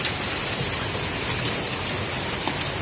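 Steady dense patter of hail or heavy drops pouring off a roof, a continuous wash of hissing impacts with no voices.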